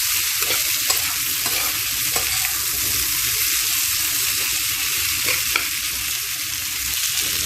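Drumsticks and poli fish curry are stirred and fried in a pan, giving a steady hiss of sizzling oil with soft, irregular scrapes of the spoon close by.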